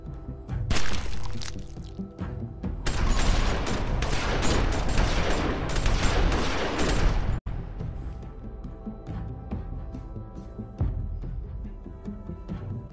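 Bursts of gunfire in The Walking Dead Season 2 finale game, a dense loud volley of rapid shots for several seconds, then a sharp cut to quieter scattered bangs and rumble.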